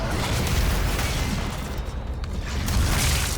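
Rocket launcher blast in Doom, a loud sustained explosive roar with rumbling low end and crackling debris, followed by a brief dip and a second burst of booming noise.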